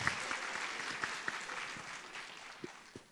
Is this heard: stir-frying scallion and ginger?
no